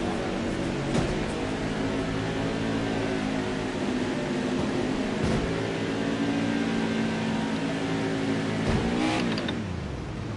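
A 550-horsepower NASCAR Cup Series race car engine in a video game at Iowa, droning steadily and loud throughout with rising revs and a couple of brief pitch shifts, no talk.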